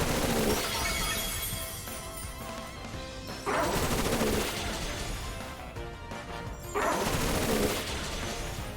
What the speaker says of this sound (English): Bullet Seed.